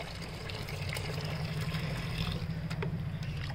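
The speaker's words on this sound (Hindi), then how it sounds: "ऐसे ऊपर से आधा आधा गिलास पानी हर प्लांट में पिला देना है।" Black tea water is poured by the half glass into petunia plant pots outdoors, a steady soft trickling and splashing that runs continuously at close range without speech.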